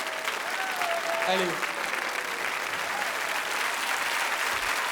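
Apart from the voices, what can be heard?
audience applause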